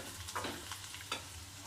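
Onions sizzle in a pan, fried until reddish, giving a steady crackling hiss with light stirring scrapes and no talk.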